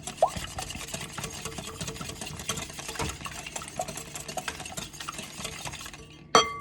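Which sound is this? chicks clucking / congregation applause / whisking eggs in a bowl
whisking eggs in a bowl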